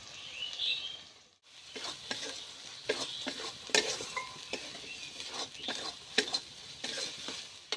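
Chili and spices for chicken curry sizzle and fry in a pan, a steady close crackle broken by repeated scrapes and clinks of a spoon stirring, with no talk.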